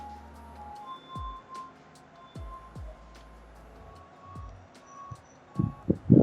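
A mobile tracker app for garbage collection sounds its alarm as a few short, thin electronic beeps at moderate volume over quiet room noise, followed by a couple of louder thumps near the end, with no speech.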